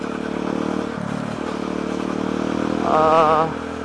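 A Kawasaki D-Tracker 150 SE motorcycle engine hums steadily while being ridden, close and continuous, swelling briefly louder near the end before settling back.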